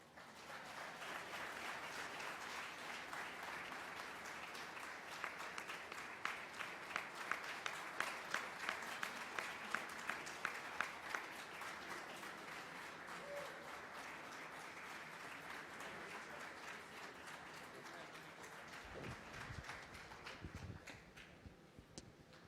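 A conference audience applauds steadily to welcome Holocaust survivor Judah Samet, sustained clapping from a large crowd that carries on for about twenty seconds before fading, with a few thumps near the end.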